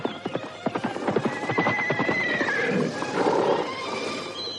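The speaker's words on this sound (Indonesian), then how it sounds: "memperhatikan derap kuda yang dipacu itu dengan perasaan harap-harap cemas" A horse gallops in an audio drama sound effect, a rapid run of hoofbeats that then gives way to a loud whinny, fairly close and with no talk over it.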